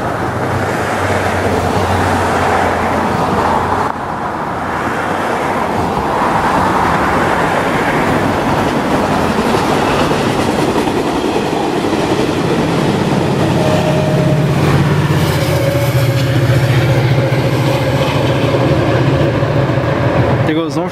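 Bay Area commuter train 117 rumbles past nearby, a loud continuous roar of wheels and rail noise that builds and swells throughout, with a brief tonal squeal or horn-like note toward the end.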